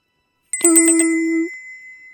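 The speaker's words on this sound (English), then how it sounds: "Her collar rings." A bright bell tone rings once, a clear sustained chime for about a second before fading out after a silent start.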